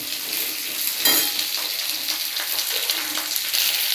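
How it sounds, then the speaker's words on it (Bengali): Potato, beans and carrot frying in a pan make a close, steady crackling sizzle, with a few scraping stirs, one slightly sharper clatter early on. "আমি এই আলুটা দিয়ে দেবো, বিনসগুলো দিয়ে দেবো, গাজরটাও দিয়ে দেবো। দিয়ে আমি একটু হালকা লাল করে ভেজে নেব।"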